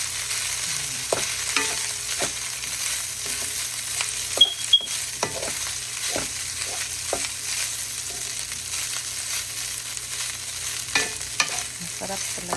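Rice fries and is stirred in a pan for fried rice, a steady sizzle under repeated scraping strokes of the spatula at an irregular rhythm, close and alone.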